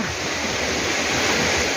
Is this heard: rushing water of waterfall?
yes